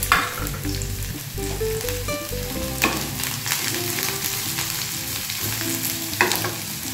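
Chopped onion and three or four green chillies fry in a pan for a Holi Peraki snack, giving a steady close sizzle with bursts of stirring and scraping throughout.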